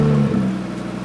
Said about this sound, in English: Let's start the engine up.